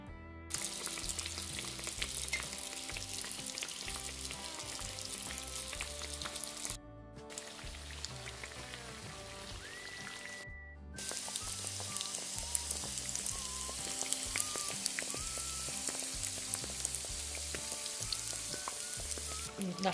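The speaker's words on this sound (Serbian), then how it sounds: "E, sad ćemo da idemo da ih pržimo." Small yogurt doughnuts frying in oil over moderate heat, giving a dense, continuous crackling sizzle close by with two brief breaks.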